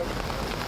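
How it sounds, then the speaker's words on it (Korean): Rain falls in a tropical jungle as the wet season begins, a steady, dense patter of drops on surfaces close by, loud and continuous with no clear voices over it. "비가 내리기 시작합니다."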